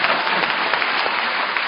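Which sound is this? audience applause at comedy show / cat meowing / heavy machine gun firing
audience applause at comedy show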